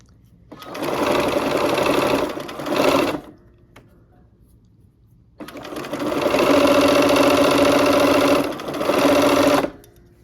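A sewing machine stitches quilt pieces cut on the bias in two steady, loud runs, the first about two and a half seconds long, then a short pause, then a longer run of about four seconds.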